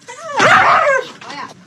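A dog lets out a loud, close whining yelp that rises and falls, followed by a shorter softer whimper.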